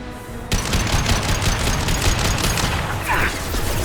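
Sustained rapid gunfire from the video game Mass Effect 2, played on Insanity difficulty, bursts in after a short lull and continues as loud, dense automatic shooting with a distant boom near the end.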